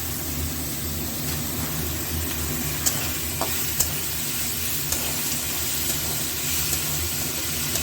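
Spice tempering crackles and fries in hot oil in a home kitchen pan, a steady sizzle with a few faint clicks from a utensil, continuous and close with no talking.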